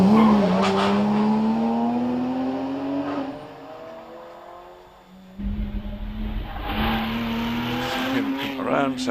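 A Porsche race car climbs the Prescott hillclimb course, its engine note rising steadily under acceleration, then fading and returning with tyre noise, while a commentator talks over it.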